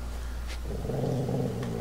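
A puppy growls in The Walking Dead video game, a low rumbling snarl that swells in the second half of a short, steady, fairly loud stretch with no talking.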